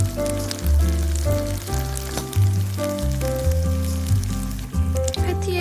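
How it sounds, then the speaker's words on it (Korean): Steady sizzling of tofu and seafood patties frying in plenty of hot oil in a pan over medium heat, heard beneath louder background music with shifting tones. "패티는 팬에 기름을 넉넉하게 두르고 중불에 튀기듯이 익혀주세요."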